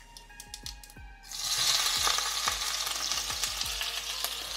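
Mustard seeds, cumin and fenugreek hit hot oil for a fish curry and burst into a loud, steady sizzle with popping seeds, after a few light clinks of a spoon.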